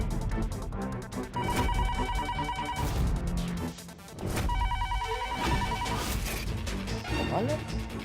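A home landline telephone rings unanswered in repeated electronic bursts with short gaps between them, loud and close, over background music and busy room noise.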